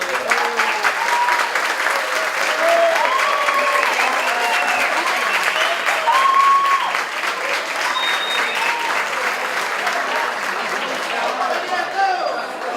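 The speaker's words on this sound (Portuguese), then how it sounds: "Uma salva de palmas, professor Neiro." An audience at a campus director candidates' debate gives a sustained round of applause, a dense, steady clapping that carries on for over twelve seconds, with a hum of crowd voices mixed underneath.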